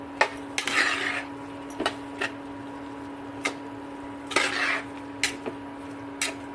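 A spoon stirring spiced tomato curry in a pan: soft repeated scrapes and clinks of metal against the pan at an uneven pace over a steady hum, close by, with no talking.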